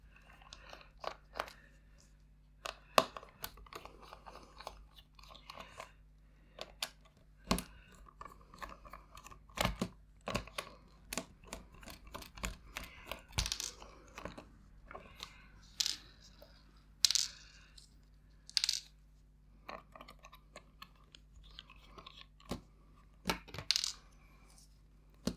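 Tri-wing screws being backed out of a Nintendo Game & Watch Super Mario Bros. handheld with a small size 2 screwdriver, heard as sparse, close, quiet clicks and scrapes against plastic scattered across a quiet background.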